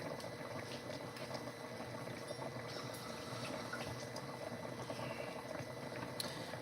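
A pot of ribs boils on the stove, a continuous quiet bubbling and simmering with occasional small pops, steady and close, no talk over it.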